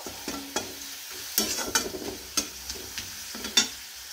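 Potatoes fry in a pan under a low, quiet sizzle, broken by sharp clacks and scrapes as a spatula stirs them, roughly a dozen knocks spaced irregularly over a few seconds; close by, with no talking.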